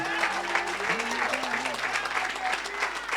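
A church congregation applauds and cheers for Jesus, with rhythmic clapping over sustained singing or shouting voices and a low hum underneath.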